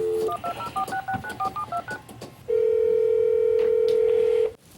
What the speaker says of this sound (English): Hang on a second, I'm going to phone Ray